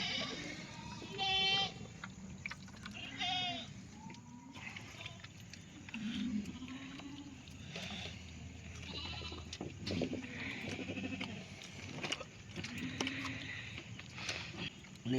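Sheep bleat repeatedly in a fold in the rain, close to middle distance, several wavering calls over a steady background murmur, with occasional voices mixed in.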